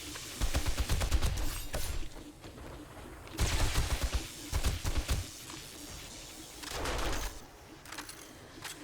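Bursts of game gunfire cut down zombies in 7 Days to Die, with several clustered volleys of rapid shots separated by short lulls, fairly close and sharp, and no talking over them.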